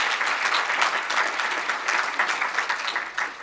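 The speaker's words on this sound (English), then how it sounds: "give him a round of applause" A crowd claps for a member of the European Parliament at a political event in Manchester, dense sustained applause close and loud throughout, steady without pauses.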